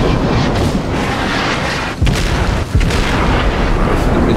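Battleship guns firing and shells striking in World of Warships, a dense, rumbling wash of booms with a couple of sharper blasts standing out, loud and continuous.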